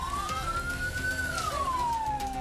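An ambulance siren wails in one slow rising and falling sweep, trapped in a road blockade by truck drivers, steady and fairly close over a low traffic rumble.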